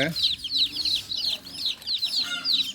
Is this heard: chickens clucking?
yes